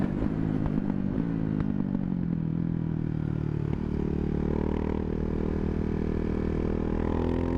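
A Ducati Hypermotard 690 single-cylinder motorcycle ridden on a winter road in Arizona: a close, throbbing engine note that shifts pitch as the rider changes speed, with wind rush and some rattling clatter, no talk.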